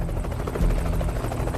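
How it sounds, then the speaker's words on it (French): A helicopter lifting off, a steady, loud rotor thump and buzzing engine drone throughout, close and with no talk. "Le premier hélicoptère décolle en emportant le corps de Ben Laden."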